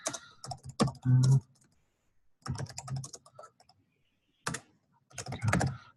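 Bursts of typing on a computer keyboard as an address is entered into a web map search box, quick clusters of clicking keys separated by pauses, close and clear with no talking.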